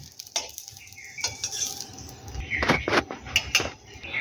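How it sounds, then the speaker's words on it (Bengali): Eggplant frying in oil in a wok for a vegetarian chickpea-greens ghonto, with a soft sizzle under clinking and scraping from a spatula being stirred through the pan. "বেগুনটাকেও বেশ লাল লাল করে ভেজে নিয়েছি"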